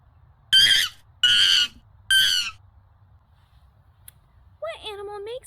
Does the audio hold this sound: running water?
no